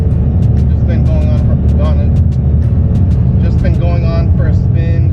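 Steady, loud engine rumble and road noise from inside a Lamborghini on a long drive, a constant low drone with a voice talking over it throughout.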